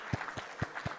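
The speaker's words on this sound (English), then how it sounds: "Another round of applause," Applause from an audience at a leadership award lecture, a brief burst of a few distinct claps in a steady rhythm over a faint crowd murmur, moderately distant.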